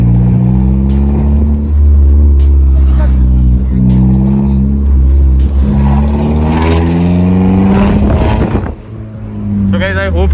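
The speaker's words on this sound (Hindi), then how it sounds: "एग्जॉस्ट की आवाज सुनाओ तो भाई फुल एग्जॉस्ट अपने भर भर करते जा रहे हैं।" Maruti Swift exhaust revving while driving through mountains, a loud, steady low engine drone with rising and falling pitch as the car accelerates, close up and continuous with a brief dip near the end.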